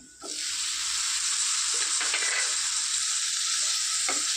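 Tomatoes hit hot oil in a pan of mushroom masala and sizzle loudly and steadily, with occasional scrapes of a spoon stirring them, close up and alone.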